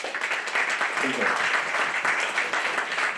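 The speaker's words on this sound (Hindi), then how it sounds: "एक बार आप सभी के लिए तालियां हो जाएं" An audience at a college motivational society event claps in a dense, steady burst of applause, and a voice speaks briefly over it.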